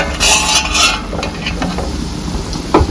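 Chicken fry sizzles in a pan as it is stirred, giving bright bursts of frying hiss with scraping and utensil clinks across a few seconds, heard up close.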